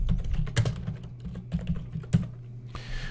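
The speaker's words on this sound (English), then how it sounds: "go ahead and type your footer" Keys clatter in short irregular bursts as a footer is typed on a computer keyboard, close and fairly quiet, with no voices.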